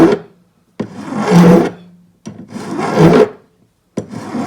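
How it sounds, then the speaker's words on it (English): Hand file rasping across the corners of hammered metal heart earring pieces, in three long, steady strokes separated by short pauses, with a fourth stroke starting at the end. Close and fairly loud, with no talking. "Actually, I am filing these a bit more because it's a bigger piece."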